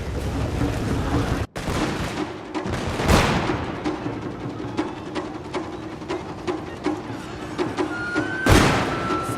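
Matchlock rifle volleys crack out in a Total War: Shogun 2 battle: a string of sharp, moderately loud reports with ragged timing, spread across a constant rumbling battlefield din.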